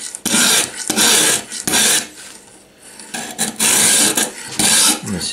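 Scissors are sharpened on a homemade sharpener with a diamond stone, giving loud, close, repeated rasping strokes of metal scraping against abrasive, with short gaps between passes.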